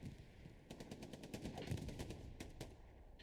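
Distant gunfire in the World War II shooter Hell Let Loose, rapid faint bursts of machine-gun shots cracking in quick succession over low background rumble.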